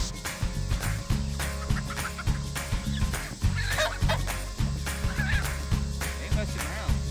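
Chickens raised for meat cluck and chatter close by in a yard, busy overlapping calls with scuffling and thumps, no talking.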